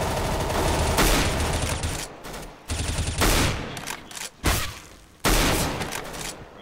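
Rapid automatic gunfire from the video game CS:GO, loud bursts of sustained shooting broken by a few short gaps, with no voices over it.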